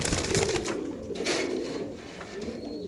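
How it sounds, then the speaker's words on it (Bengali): Racer pigeons, large birds with leg tags, coo softly in a loft with a low murmuring hum and scattered bird sounds, steady and close throughout. "খুবই সুন্দর বড় সাইজ কবুতর,"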